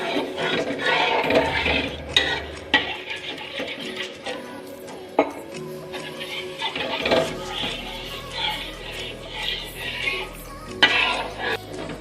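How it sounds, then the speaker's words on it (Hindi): A utensil scrapes and clinks against a pan as milk is slowly stirred into roasted flour for a white sauce. The metallic knocks come in an uneven rhythm, with occasional splashing and a soft background hum. "अब धीरे धीरे दूध डालना है, मिलाना है, धीरे धीरे डालना है"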